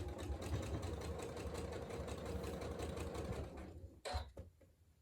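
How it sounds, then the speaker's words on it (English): Sewing machine stitching around the edge of a workshop bag with a slightly wide seam, running in a steady rapid mechanical rhythm for about four seconds, then stopping with a couple of sharp clicks. "And then sew all the way around using a little bit larger seam than 1/4 inch"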